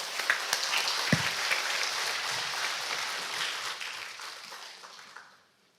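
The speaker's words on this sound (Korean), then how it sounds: "큰 박수로 모시겠습니다" A symposium audience claps warmly for several seconds, the applause gradually thinning and fading away to silence.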